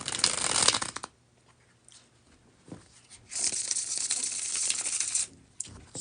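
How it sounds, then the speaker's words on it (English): Playing cards riffle in a crisp bridge shuffle, a short ripple, a pause with soft handling, then a longer riffle and cascade close up. "we're going to go ahead and get right into the bridge shuffle"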